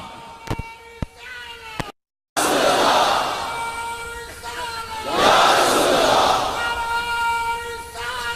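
Large crowd at a religious conference loudly chanting a devotional slogan in unison, a roaring sustained mass of voices that swells twice after a brief cut, preceded by a few sharp knocks.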